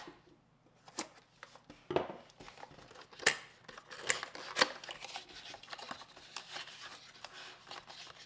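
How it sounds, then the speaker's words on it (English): A small unboxing knife slices through the packaging of a G-Technology G-Drive Mobile 4TB USB hard drive, giving quiet scrapes, crinkles and a few sharp snips and tears close by. "Go ahead and get my little unboxing knife"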